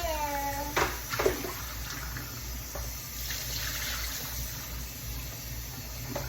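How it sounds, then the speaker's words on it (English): Tap water runs steadily into a cooking pot being filled to boil chicken, a continuous close splashing hiss with a couple of clunks near the start. "Fill this water up, y'all."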